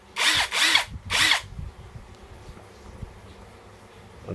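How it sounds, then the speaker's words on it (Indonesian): Brushless Drill Pro impact driver with a 21-volt battery whirring loudly in three quick close bursts, then going quiet with faint handling noise. "ini impact driver punyanya Drill Pro. Ini juga sudah brushless."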